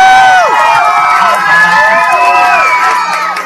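A crowd shouts and cheers loudly for a contestant at a lively parody game-show event, the voices overlapping in a continuous roar with whoops rising and falling throughout.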